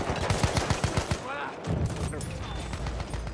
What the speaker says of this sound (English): I'm gonna get shot straight away here.